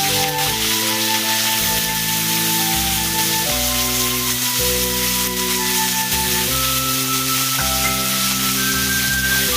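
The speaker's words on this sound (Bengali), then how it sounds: "পেঁয়াজটাকে লাল করে ভাজতে হবে।" Chopped onion with spices fries in a pan for a fish-head curry, giving a continuous sizzling hiss that sits beneath steady background music.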